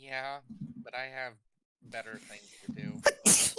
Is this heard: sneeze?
yes